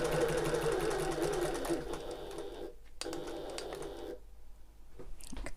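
A sewing machine stitches the corner of an open-top tote bag, running steadily at close range, pausing briefly, then resuming short bursts of stitching.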